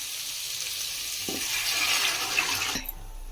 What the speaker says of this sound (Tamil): இதில் அந்த தண்ணி நம்ம வேக வச்சிருக்க தண்ணியும் இதில் விட்டுடலாம்.